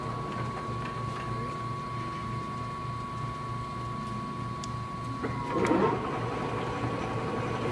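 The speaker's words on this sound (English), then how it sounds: "Jogging the spindle." A Stanko 1A983 hollow-spindle engine lathe hums quietly with a steady motor whine. Near the end a brief jog of the spindle brings a short, slightly louder whirring burst before the quiet hum returns.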